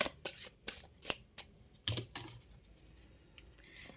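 Tarot cards are shuffled by hand in a quick burst of crisp riffles and soft slaps, each flick sharp and close. The card sounds trail off into quieter handling.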